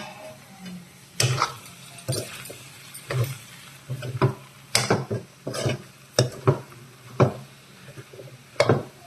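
A utensil scrapes and knocks against a pan while potato and eggplant curry is stirred, giving irregular sharp clinks and scrapes, about a dozen, over a quiet low background hum.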